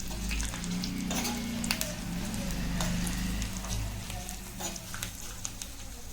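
Chana dal and garlic fry in hot oil in a pan as a tempering for mint chutney. The sizzle is continuous and crackling, close by, with occasional stirring scrapes.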